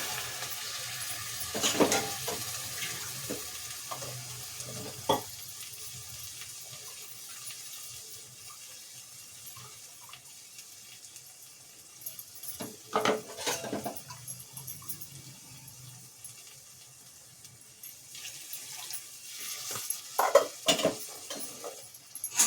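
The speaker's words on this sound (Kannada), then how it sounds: "ಈಗ 10 ನಿಮಿಷ ಕಾಲ ಹೈ ಫ್ಲೇಮ್ ಅಲ್ಲಿ ಇಟ್ಕಿ ವೆಜಿಟೇಬಲ್ಸ್ನೆಲ್ಲ ಬೇಯೋವರೆಗೂ ಬೇಯಿಸ್ಕೊಳ್ಳಿ" Mixed vegetables for a Karnataka-style veg saagu cook over high flame in a pan, with a steady low sizzle and intermittent clinks and scrapes of a spoon stirring, close and fairly quiet.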